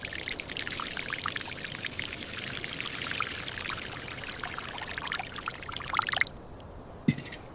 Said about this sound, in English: freshwater flushing of the top soil layer, repeated 3 times over 5 days